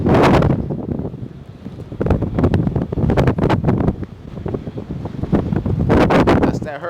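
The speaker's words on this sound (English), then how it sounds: "The second I open this door, watch how crazy this wind gets." Strong, gusty wind outside rushes and buffets loudly in surges as a door is opened, roaring across the microphone.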